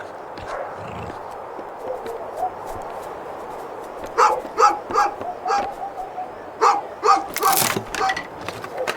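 A dog in the video game A Juggler's Tale barks in a series of short, loud, evenly spaced yaps over soft background music, after someone speaks briefly at the start.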